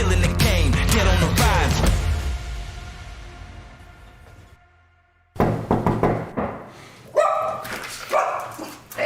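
A dog barks in loud, sharp bursts after a fading noisy stretch and a brief silence, with knocking sounds mixed in.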